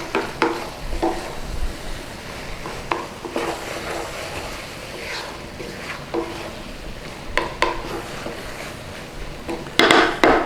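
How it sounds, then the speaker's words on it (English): Eating apple stirred into pie filling in a pan makes soft scraping and occasional clinks of a utensil against metal over a faint sizzle, quiet and irregular. "So get our eating apple in there. Stir it in."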